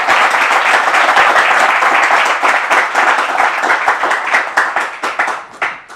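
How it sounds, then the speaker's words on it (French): Loud, close applause from a church congregation after a pastor's remarks, dense clapping that holds strong for a few seconds, then thins into scattered, individual claps as it fades. "On applaudit très fort l'intervention"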